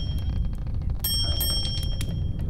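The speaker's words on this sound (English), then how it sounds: "Should I ring the desk bell?" A desk bell rung in the side-scrolling horror video game Immure: a few bright, clear metallic dings close together near the middle, over a low steady background hum.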